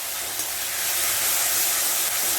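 Ginger garlic paste sizzles and hisses steadily as it fries in a pan with onions and spices for a spicy prawn coconut curry, a loud, even crackle close by.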